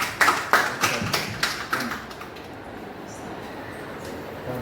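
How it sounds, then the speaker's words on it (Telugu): People clap at a house dedication prayer: a handful of sharp, uneven claps close by over about two seconds, quickly thinning out into a quiet room with low murmuring. "చప్పట్లు కొట్టాలి అందరూ కూడా."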